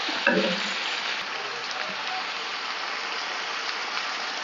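Chicken sautéing in a pan for chicken curry, a continuous sizzling frying hiss with a few soft stirring knocks near the start, no talk.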